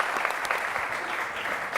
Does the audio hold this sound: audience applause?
yes